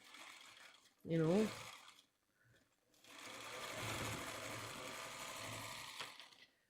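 A sewing machine stitches quilt block units in two close bursts, a short run followed by a longer steady whir, with a brief voice speaking between them.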